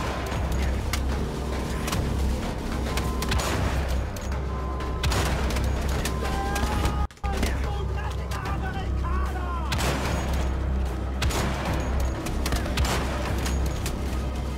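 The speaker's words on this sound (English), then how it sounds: "Actually, I can just shoot him in the chest now, can't I?" Rapid sniper and gunfire shots from the shooter game Wolfenstein: The Old Blood, firing at an enemy's chest. Loud, dense booms and cracks run through the whole stretch, with battle noise, a brief drop near the middle, and possible game voices underneath.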